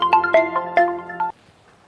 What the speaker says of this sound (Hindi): अरे साहब सिंह का फोन।